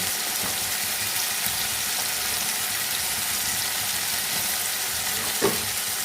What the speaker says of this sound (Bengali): এবার নেড়ে চেড়ে ভেজে নিতে হবে এটাকে ভালো করে টমেটোগুলো গলে যাবে সেই অবস্থা অবধি ভাজতে হবে